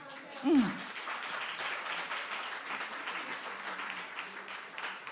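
A church congregation applauds during an Easter Passion service, a low, steady patter of clapping that continues throughout, after a brief vocal exclamation at the start.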